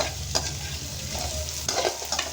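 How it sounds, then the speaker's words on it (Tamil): Onions and black pepper sautéing in a pan for a duck and chicken curry masala, with a steady close sizzle and a few spatula stirs scraping through it. "எல்லாத்தையும் போட்டு நல்லா வதக்கி"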